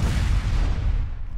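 A rocket explosion in the video game Borderlands 2: a loud, sustained low rumbling boom that fills the whole moment, heavy in the bass and fading slightly toward the end.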